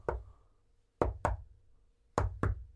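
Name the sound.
secret knock on a barrel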